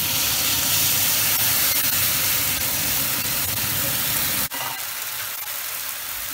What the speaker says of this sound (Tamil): இப்போ நம்ம என்ன பண்ணுறோம், கரைச்சி வச்ச புளியை ஊற்றிடுறோம்.